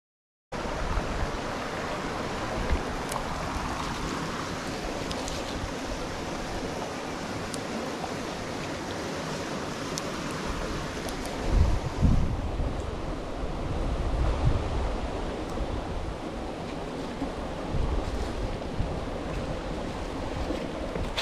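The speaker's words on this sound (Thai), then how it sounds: "ะมีเสียงน้ำไหลนะครับ บรรยากาศดี" Steady rushing water from a stream flowing through a mountain forest in Mae Hong Son, a continuous broadband wash that holds at an even level throughout, with a few louder surges and splashes partway through.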